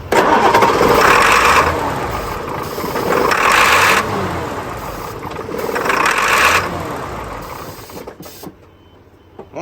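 A car engine cranks and turns over in three long, labored bursts separated by short pauses, loud and close, then quiets near the end.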